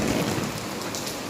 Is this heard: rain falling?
yes